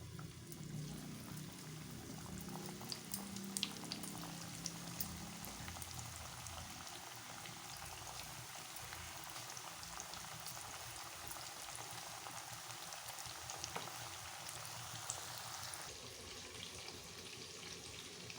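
Chicken pieces deep-frying in oil for chicken fry, a continuous dense crackling hiss that stays even and fairly faint throughout, with no talking.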